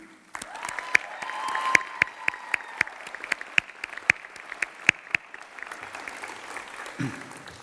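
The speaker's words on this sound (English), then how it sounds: "graduates, please join me in a round of applause for the people in your lives who have helped you reach this important milestone" Audience applause at a graduation commencement ceremony, a steady wash of clapping from many hands in a large hall, moderately loud, fading out near the end.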